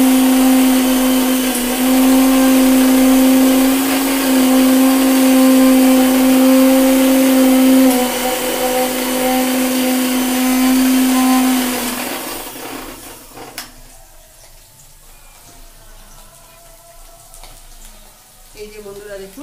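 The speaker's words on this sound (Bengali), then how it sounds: "মিক্সারে করে দিচ্ছি আমি এটাকে।" An electric mixer grinder whirs loudly and steadily as it grinds whole cumin, ginger and green chili, then shuts off after about twelve seconds, leaving quieter clatter and handling sounds.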